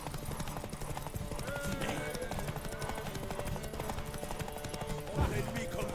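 Horse hooves clip-clopping at a steady rhythmic gallop in The Witcher 3, loud and continuous with game music and ambience underneath and a brief neigh near the end.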